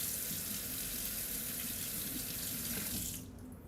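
Cold tap water gushes over a trumpet mouthpiece in a steady, close hiss that cuts off abruptly just before the end.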